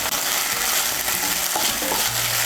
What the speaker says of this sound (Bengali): নারকেল কোড়াটাকে মিশিয়ে নেব তেলের সঙ্গে।